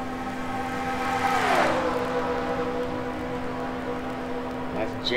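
Race trucks roar at the Michigan track as one passes with a rising then falling engine whine over a steady drone, while a commentator talks over it.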